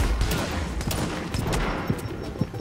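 Rapid video game gunshots crackle in a dense, continuous volley, loud and close, with a few sharper individual pops standing out.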